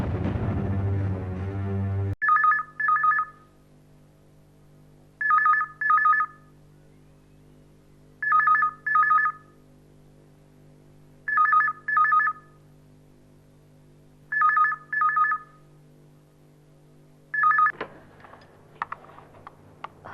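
An electronic telephone rings in six evenly spaced double pulses, about three seconds apart, over a soft low drone, before music rises at the end.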